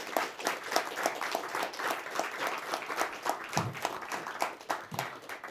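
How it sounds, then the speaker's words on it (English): Applause from an audience for a discussion panel on water and war, a fairly quiet patter of claps fading toward the end, heard without talk. "Let's give a warm round of applause to this panel."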